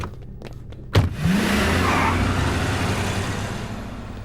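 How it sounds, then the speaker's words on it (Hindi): A car engine turns over right after a sharp thud, then revs up and holds a loud, steady drone as the vehicle pulls away, with no talking. "गाड़ी निकालो।"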